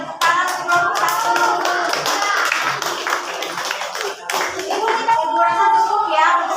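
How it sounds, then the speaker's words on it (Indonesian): A classroom of students claps for a group of classmates, dense, close, fairly loud hand clapping that continues throughout, with a few voices mixed in. "tepuk tangan untuk kelompok satu"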